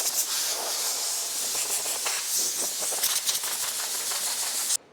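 Compressed air blasts over a primed car body panel being cleaned before painting, a loud, continuous close hiss with slight fluttering that cuts off abruptly at the end.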